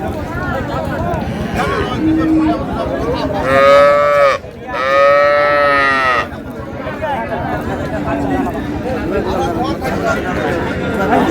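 Cows and calves low loudly at a busy livestock market in Dinajpur, with two long drawn-out moos near the middle standing out over steady crowd chatter and nearby talk.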